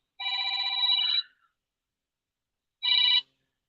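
A telephone rings with an incoming call inside a vehicle on a highway drive, sounding one long ring and then a shorter second ring. The rings are loud and close, with silence between them.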